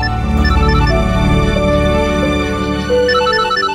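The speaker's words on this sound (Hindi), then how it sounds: "शैतान का नाम लिया, उसी का फोन आ गया।" A mobile phone ringtone plays a loud, bright, continuous melody in a Haryanvi feature film scene, with no voices over it.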